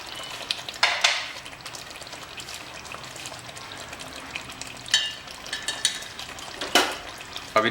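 Mutton korma being stirred in a pot, soft sizzling beneath a series of scraping, clattering stirs that come in irregular bursts, close by.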